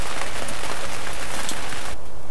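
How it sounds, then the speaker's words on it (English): Rain starts falling on a hot tent at a bushcraft basecamp, a loud, close, steady patter of drops on the canvas that drops away sharply near the end. "Here comes the rain."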